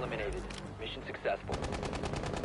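Gunfire in a first-person shooter video game: bursts of rapid shots, a few scattered early and then a dense rattling volley in the second half, fairly close and sharp, with no talk.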